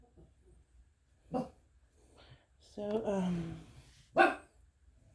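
A dog gives two sharp barks, one early and one near the end, with a whining, wavering cry between them, close by in a quiet room while a person briefly speaks.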